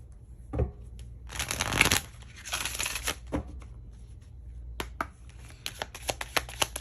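Tarot cards being drawn and shuffled by hand, a quiet close flurry of riffling and sliding, followed by scattered soft snaps and taps as cards are laid down.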